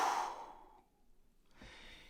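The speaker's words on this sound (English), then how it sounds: "breathe out as deeply as you can to reach this point right there" One long, deep exhalation as a person empties the lungs as fully as possible: a close, breathy rush that fades into near silence, followed by a faint soft breath at the end.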